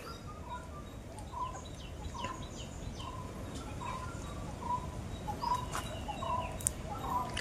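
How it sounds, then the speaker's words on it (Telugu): Several birds call in a dense hilly forest among rocks near Katapuram, short whistled and chirping notes repeating through the clip over a steady rustling background, one sharper call standing out near the end. "ఆహా, అడవిలలో పక్షులు కూడా అరుతున్నాయి ఫ్రెండ్స్."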